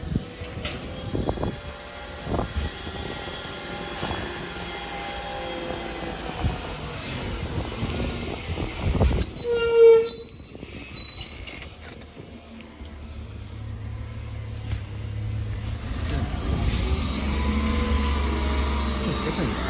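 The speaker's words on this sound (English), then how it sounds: "It's a different garbage truck, 21. Never seen this truck before." A garbage truck creeps slowly past, its engine rumbling steadily with hissing air-brake bursts and squeaks midway, then a deeper low drone as it pulls on.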